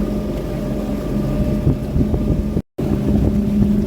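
Tourist boat ride on a lake in Udaipur, India: a steady low motor drone with water and wind rumble, loud and close, with a brief dropout near the end.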